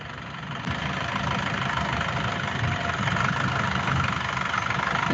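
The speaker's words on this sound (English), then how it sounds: "It's more like an engine sound." A vehicle engine idles steadily with a constant low rumble and mechanical hum, heard from inside the vehicle, getting a little louder after the first moment and then staying even, with no talking.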